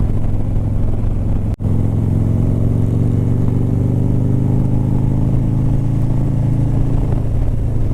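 A Harley-Davidson Low Rider ST motorcycle cruising on a winding New Zealand highway, its engine a steady, loud, low rumble blended with wind noise, with a brief dropout near the start.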